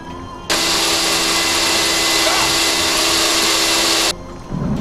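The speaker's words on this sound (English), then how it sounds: "Sand it all!" A power sander running on reclaimed red painted pallet boards, a loud, steady, close whine that starts abruptly, holds for about three and a half seconds and cuts off.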